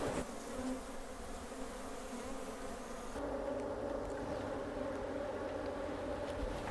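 Honeybees buzzing around an open hive frame of capped brood, a dense, continuous hum from many bees close by, steady throughout with a slight shift in tone partway.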